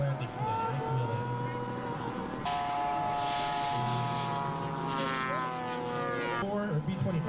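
A radio control model airplane, a 47 Razorback at an air show, drones steadily with a propeller engine hum that shifts in pitch as it makes its approach and lands, loud and continuous throughout.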